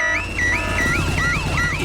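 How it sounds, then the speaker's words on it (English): In a Peppa Pig cartoon, Daddy Pig sets off a noisy house alarm. It wails loudly and continuously in rising and falling electronic sweeps, with no talking over it. "Daddy Pig has set off the noisy house alarm."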